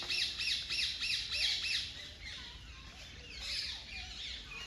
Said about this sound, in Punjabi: ਮੋਰ ਦੇਖੋ ਕਿੰਨੇ ਸੋਹਣੇ ਨੇ